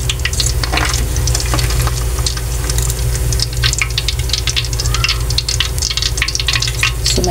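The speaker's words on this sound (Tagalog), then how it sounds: "habang piniprito ko po yung natitirang isa" Bangus (milkfish) frying in a pan with oil, a loud, continuous crackling sizzle with dense spattering pops throughout, close up and without voices.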